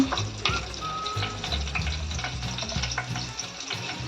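Mustard seeds and cumin crackle and sizzle in hot oil for a toor dal tempering, a dense close frying hiss with scattered pops and light stirring throughout.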